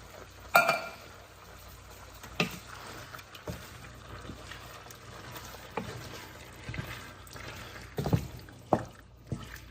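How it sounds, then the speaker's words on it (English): Canned tomatoes poured into a pot of beans cooked in chicken broth: quiet liquid splashes and drips with a few sharper taps of the can against the pot, close and faint, no voices. "And then I'm also going to pour in the tomatoes."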